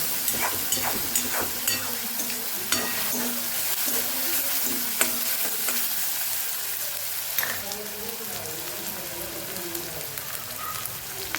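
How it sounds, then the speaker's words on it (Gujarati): Grated onion sautés in a pan for Kathiyawadi-style adad dal, sizzling steadily and close, with occasional scraping and stirring clicks throughout. "ડુંગળી સતળાઈ જશે એટલે પિંક કલર જેવો આમાં ડુંગળી થઈ જાય એટલે ત્યાં સુધી આપણે ડુંગળીને સાતડવાની છે"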